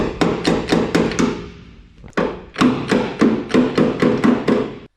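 A hammer tapping a dent out of camper van sheet metal, a run of close, sharp, evenly spaced metallic taps, a short pause with one harder knock, then another steady series of taps.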